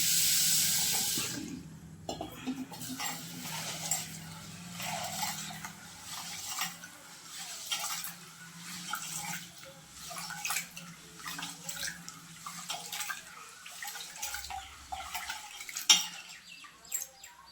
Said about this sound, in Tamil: நம்ம இதை நல்லா கழுவிட்டு அரிச்சிக்கலாம்